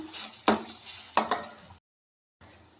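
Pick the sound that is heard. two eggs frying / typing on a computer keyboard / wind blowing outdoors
two eggs frying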